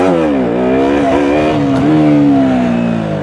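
A KTM Duke 125 motorcycle engine revs up with the clutch pulled in, a loud, close, continuous whine that climbs, holds high, then eases slightly.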